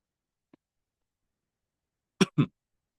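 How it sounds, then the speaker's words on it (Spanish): A lecturer in a physics class lets out two quick, sharp coughs close to the microphone, preceded by a faint small throat sound, in an otherwise quiet room. "me agarró la tos de nuevo"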